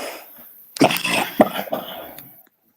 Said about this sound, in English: he sounds like he's coughing up a lung